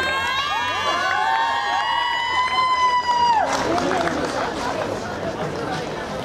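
At a product launch, a sustained tonal sound holds for a few seconds before an audience breaks into loud applause and cheering, which carries on as a dense clatter of clapping.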